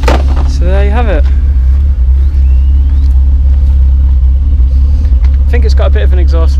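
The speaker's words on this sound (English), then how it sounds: "I think it's got a bit of an exhaust leak," BMW E36 with a swapped-in M50 six-cylinder engine idling with a slight exhaust leak, a steady deep rumble throughout, loud and close, with a voice talking over it at the start and end.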